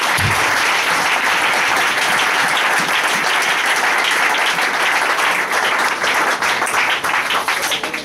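A congregation applauding during a Sunday church service, loud, dense clapping that stays steady throughout with a faint rhythmic pulse and no clear voices.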